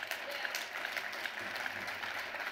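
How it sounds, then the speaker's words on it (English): Applause from a keynote audience at a political speech, a steady, dense wash of clapping held at an even level throughout the moment. "Give them a round of applause."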